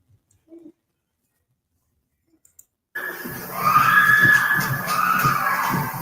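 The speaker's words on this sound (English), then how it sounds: "You heard the screaming in the background?" Several people screaming in the background, a loud, continuous, strained wail of voices that bursts in suddenly after a stretch of near silence and holds for a few seconds.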